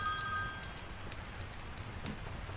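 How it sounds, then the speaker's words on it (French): An old telephone bell rings in a quiet room during a tabletop horror game, a bright metallic trill fading in the first half-second over faint crackling background noise. "Il y a le téléphone qui sonne."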